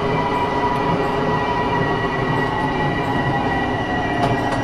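An M7 electric commuter train in a Long Island Rail Road train simulator game rumbles steadily with a dense, continuous roar of wheels on rails and faint metallic squeals, sounding like the train slowing down.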